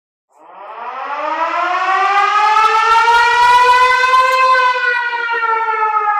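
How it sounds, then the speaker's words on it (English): A loud hand-crank fire truck siren winds up from a low growl to a steady high wail and holds there, rising and falling slightly, with no other sounds. "in this model fire truck, the siren went right here, and it was a hand crank siren"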